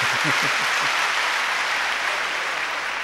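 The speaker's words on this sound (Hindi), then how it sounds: "तालियां और जोर से बजाइए इस बच्ची के लिए" A crowd at a spiritual gathering applauds a young girl, a broad, even wash of clapping that holds steady throughout, with a faint voice briefly audible near the start.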